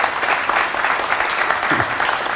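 Audience applause at an arts center Q&A: a brief, steady patter of clapping from a modest crowd, fairly close and even throughout.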